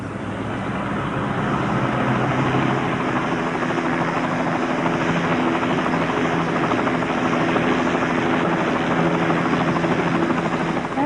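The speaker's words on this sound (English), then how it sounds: "There's a helicopter going over." A helicopter passes overhead during a 1992 Glastonbury festival standoff, its rotor thrum loud and steady for the whole stretch, with faint voices underneath.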